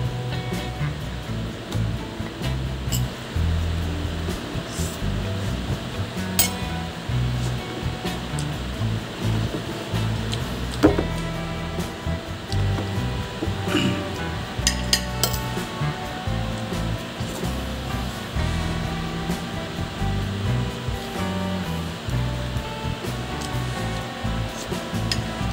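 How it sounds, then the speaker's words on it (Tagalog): Rain pours steadily outside during a meal, a dense continuous hiss like surf or spray that holds at one level, with scattered clicks and faint background sounds. "Maulan ngayon, maulan."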